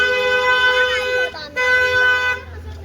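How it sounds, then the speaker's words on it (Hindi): A car horn toots in a steady, sustained blare as a vehicle approaches along a street where children are playing cricket, loud and close, with a brief break before it sounds again. "ओए गाड़ी आ रही है यार, गाड़ी आ रही है।"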